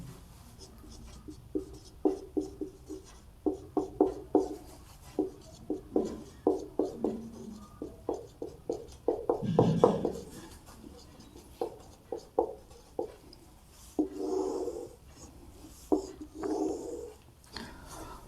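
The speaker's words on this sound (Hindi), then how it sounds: "सबसे पहले इसका सूत्र मैं लिख देता हूं" Pen scratching out a maths formula on paper in close-up, a run of short irregular strokes and taps that carries on steadily with small pauses, with no talk over it.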